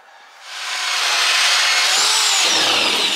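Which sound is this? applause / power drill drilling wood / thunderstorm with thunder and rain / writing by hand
power drill drilling wood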